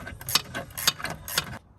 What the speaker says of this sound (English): crank this hose clamp back down as well.